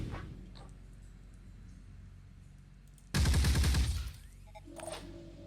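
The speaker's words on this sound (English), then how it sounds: "Let's start out shooting against the turret" A loud, rapid burst of pistol gunfire lasting about a second rings out at a turret in the tactical video game Phoenix Point, followed by a short quieter clatter.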